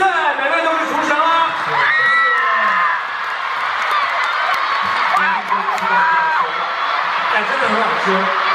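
A studio group whoops and cheers for a cooking team, with lively overlapping shouts, squeals and laughter that stay loud and steady from start to finish.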